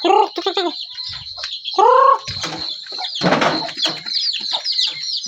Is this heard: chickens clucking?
yes